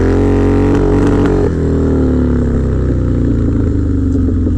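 A Harley-Davidson Dyna motorcycle engine held at high RPM during drifting, a loud, close, continuous throbbing roar whose pitch shifts slightly, alone without talk.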